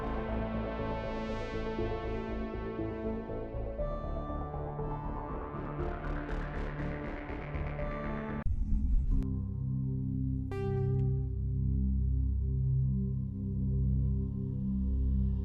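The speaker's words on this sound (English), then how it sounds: "what you're hearing is the Mass Effect launcher" Mass Effect launcher music from the video game: sustained synth drones with a slowly rising sweep, a sudden shift into a deeper pulsing chord, then a few brief chime-like tones, steady and even with no voices.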